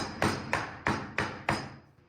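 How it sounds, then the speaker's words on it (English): A framing hammer strikes a wooden half lap joint of reclaimed scrap wood five times in a steady rhythm, each sharp close blow ringing briefly before the next. "Break out my framing hammer."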